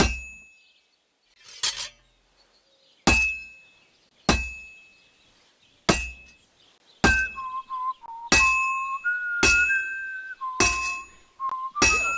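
A smith's hammer strikes metal at an anvil in the game Kingdom Come: Deliverance 2, sharp ringing clangs spaced about a second apart that settle into a steady rhythm, each leaving a bright metallic ring, with a whistled tune joining later.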